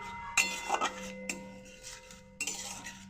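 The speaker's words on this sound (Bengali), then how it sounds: "ভালোভাবে নাড়াচাড়া করে নিচ্ছি।" A spoon clinks and scrapes against a pan while lentils are stirred with salt, giving a few light metallic taps spread over a quiet background.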